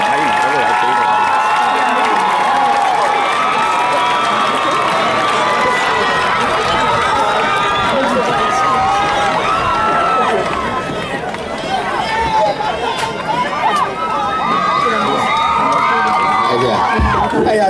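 A crowd at a 2011 high school graduation ceremony applauds and cheers for the graduating class, sustained clapping mixed with whoops and shouts filling a large space, with a voice speaking over it.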